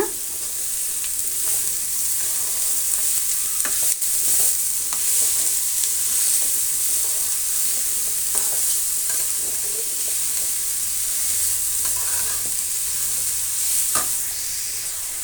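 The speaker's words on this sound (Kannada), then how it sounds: "ಈಗ ನಾವು ಕ್ಯಾರೆಟನ್ನು ತುರಿದಿರುವಂಥ ಕ್ಯಾರೆಟನ್ನು ಸೇರಿಸೋಣ ಚೆನ್ನಾಗಿ ಫ್ರೈ ಮಾಡ್ಕೊಳ್ಳೋಣ" Grated carrot frying with onions in a pan for a carrot palya, a continuous loud sizzle with occasional scrapes and taps of stirring, close up.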